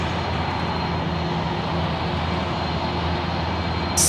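A jet airliner roars steadily at Sydney airport, a broad, constant rumble and hiss from a plane moving nearby, with no voices over it.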